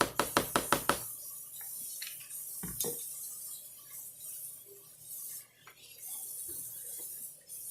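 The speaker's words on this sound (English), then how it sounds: "Give it a good stir." Spoon scraping and clinking around a bowl while potato salad is stirred with mayonnaise, a quick run of sharp knocks at the start, then softer scraping and occasional taps, close and moderately loud.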